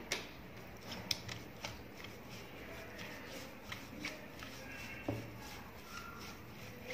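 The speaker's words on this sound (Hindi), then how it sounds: "अब इसको हम मिला लेंगे।" Suji dhokla batter of semolina, thick curd, ginger paste and green chili being stirred in a bowl, giving soft, faint scraping and wet mixing sounds with a few light taps of the spoon, no talk.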